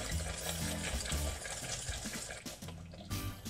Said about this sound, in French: Et on va fouetter un petit peu